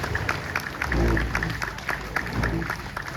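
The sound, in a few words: applause for the performances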